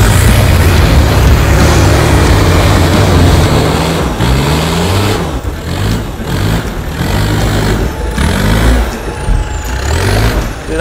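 Mitsubishi Delica van on mud tires driving off-road, a loud, close, droning engine roar that rises and falls with shifting load and rumbling wheels throughout, with no speech.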